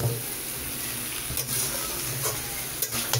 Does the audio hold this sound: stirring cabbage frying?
yes